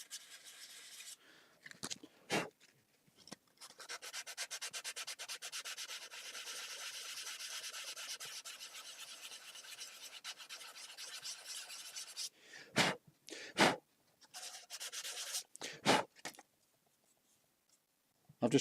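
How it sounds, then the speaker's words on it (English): Sandpaper is held against a wood-turned piece spinning on a lathe, making a soft, steady rasping hiss for about nine seconds, followed by several short, separate scratchy strokes. "So I'm just sanding this up now"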